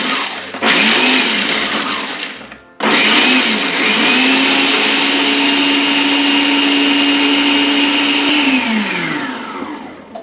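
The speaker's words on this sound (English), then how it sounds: "take 3/4 cup of whole pecans and put them in a food processor and process those to a coarse grind" A food processor coarsely grinds whole pecans, with a loud whirring motor running in two bursts, a brief stop between them and then a long steady grind that winds down at the end.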